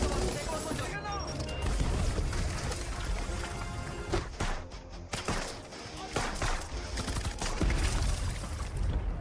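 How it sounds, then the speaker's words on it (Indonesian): Gunfire rattles through a shootout scene in an Indian film, dense bursts and crashes over a continuous score with speech mixed in. "Dan terjadilah aksi baku tembak."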